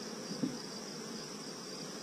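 Honeybees at an open hive with the honey super exposed, a dense steady buzzing hum of many insects close by, with no voices.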